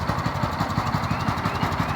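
A gas power edger engine runs close and loud with a steady, fast, rattling chug that holds an even pace throughout.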